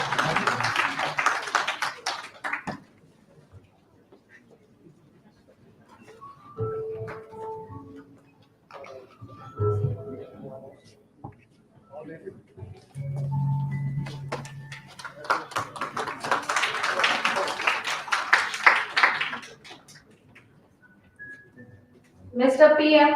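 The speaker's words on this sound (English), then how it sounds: "Please give her a big round of applause." An indoor conference audience applauds a poster competition winner in two bursts of dense clapping. Quieter stretches with a voice and small taps fall between the bursts.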